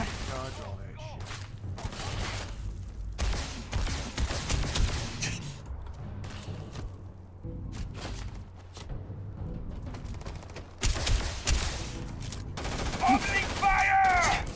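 Gunfire in the video game Starfield: bursts of shots and rapid fire come in clustered volleys over a steady low rumble, with louder bursts near the end.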